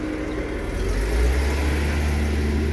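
A Mercedes-Benz S280 with a V6 engine revs up as the accelerator is pressed, a steady close engine drone that swells and deepens partway through, with no talking.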